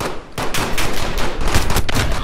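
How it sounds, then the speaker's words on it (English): Rapid gunfire from a Call of Duty: Modern Warfare multiplayer match, dense bursts of automatic weapon shots and single cracks overlapping continuously at close range, loud throughout with no talking. "one's shooting at you too"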